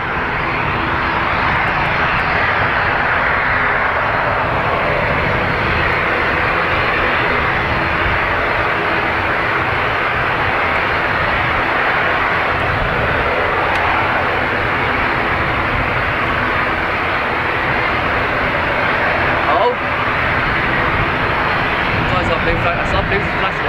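An ATR turboprop departs Dublin Airport for Belfast, its engines giving a loud, steady roar that holds throughout, with people talking in the background.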